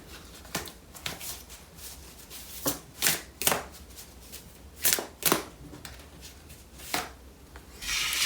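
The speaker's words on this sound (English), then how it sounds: "I'm just going to pull one more card for a little bit more information on that" A deck of tarot cards is shuffled and cards are pulled, making a series of short, crisp riffling and sliding bursts, close and fairly quiet, with soft rustling between them.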